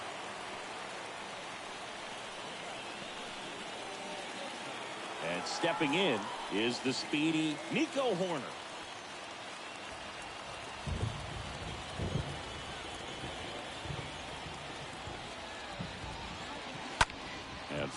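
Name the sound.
rain falling in video game MLB The Show 22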